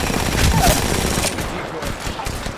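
Automatic weapons fire rattles in rapid bursts during an Apex Legends ranked Arena match, close and loud, with a voice speaking over the shots.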